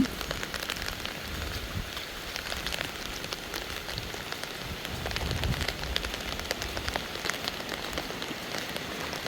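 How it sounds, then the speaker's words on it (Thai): Steady rain falling and pattering on surfaces outdoors at night, a dense continuous hiss with scattered drop taps, heard alone without talk. "ฝนตกดีอีหลีพี่น้องเอ้ย"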